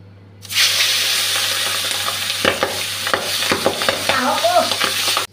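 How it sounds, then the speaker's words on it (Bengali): Salted, turmeric-coated magur fish dropped into hot oil, bursting into a loud, sudden sizzle that holds steadily, with clattering spatula knocks and crackles scattered over it. "তেলটা গরম হয়ে গেছে, নুন হলুদ মেখে রাখা মাছটা দিয়ে দিচ্ছি"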